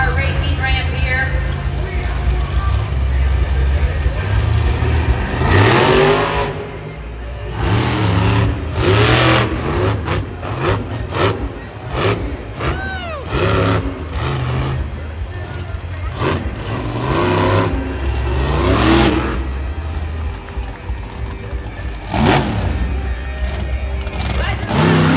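Monster Jam monster truck on a racing ramp, its engine roaring and revving in repeated surges over an arena crowd's steady noise, with an announcer speaking throughout.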